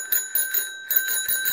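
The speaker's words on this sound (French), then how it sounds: "La fameuse petite sonnette" A small bicycle bell rings in a series of bright, quick dings, close and loud, with a brief pause partway through before ringing again.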